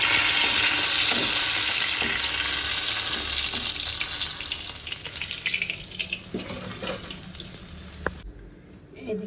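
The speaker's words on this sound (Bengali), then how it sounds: "কড়াইতে তেল গরম হয়ে গেল মাছগুলো ভেজে নেব" Fish frying in hot oil in a wok gives a loud, steady sizzling hiss that slowly fades and then cuts off near the end.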